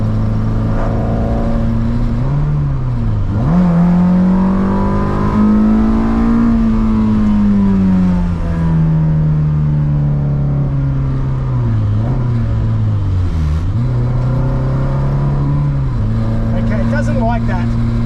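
A Ferrari-engined Alfa Romeo 105 accelerates hard at full throttle, its engine note climbing and falling through loud, close revs with brief dips between pulls.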